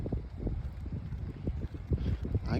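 Wind gusts buffet the microphone outdoors in Launceston, Tasmania, in winter, giving a rough, pulsing low rumble that runs steadily throughout with no talk.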